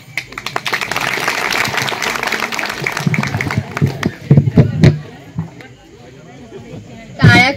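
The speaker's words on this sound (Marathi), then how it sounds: "टाळ्या कमी होत्या यार." Applause from a gathered crowd at an 86th birthday celebration, a steady patter of many hands for several seconds under speech, thinning into a few scattered claps.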